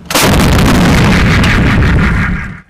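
An artillery gun fires a ramjet-boosted round, a loud close blast that rolls on as a sustained roaring rumble for over two seconds before cutting off.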